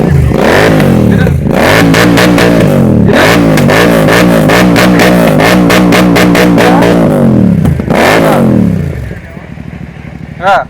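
A motorcycle fitted with a loud aftermarket silencer revs hard and repeatedly up close, its deep rasping exhaust blasting in rising and falling bursts before dropping to idle near the end.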